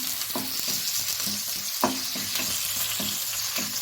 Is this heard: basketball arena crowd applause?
no